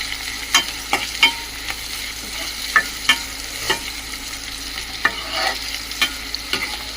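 Dried shrimp fry and get stirred in a pan for a gongura curry with crushed garlic. A steady close sizzle runs throughout, broken by regular scraping strokes of the spoon, with no talking.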